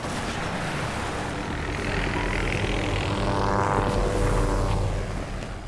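A helicopter arrives in the Korean action film Steel Rain, its engine and rotor roar loud and steady for the whole stretch, swelling slightly toward the end.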